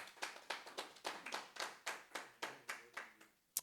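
Church congregation clapping in a steady rhythmic beat, about three claps per second, close and distinct, fading near the end.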